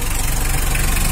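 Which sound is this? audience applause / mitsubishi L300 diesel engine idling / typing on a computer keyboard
mitsubishi L300 diesel engine idling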